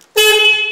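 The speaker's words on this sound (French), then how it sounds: "Un klaxon qui devrait sonner d'ici quelques secondes." Horn of a fully restored 6206 tractor, one loud, bright, sustained honk close to the microphone lasting under a second, with no talk.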